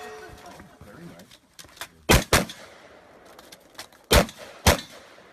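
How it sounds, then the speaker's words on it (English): An HK 416 rifle fires four loud, sharp shots in two quick pairs over a quiet background with faint low murmuring in between. "HK 416, wasting ammo."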